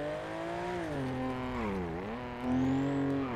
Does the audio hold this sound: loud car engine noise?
yes